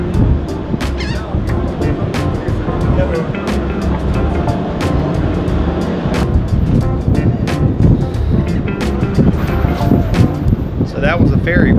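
Onboard a Louisiana car ferry, a steady loud rumble of engine and water wash mixed with wind buffeting, with repeated sharp clanks and knocks throughout and people talking over it.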